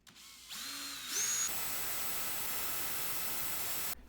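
Power tool spinning up to polish a knob from an antique Sony 6RC 23 AM clock radio with polishing paste, a rising whine that settles into a steady hiss-like buffing noise, then stops.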